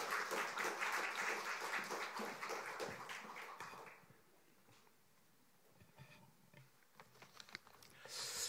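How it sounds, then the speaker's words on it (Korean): A church congregation's applause fills the room during a Sunday service in Korea, dense patter of many hands welcoming the pastor that fades to near quiet, then picks up again faintly at the end. "박수로 환영하겠습니다"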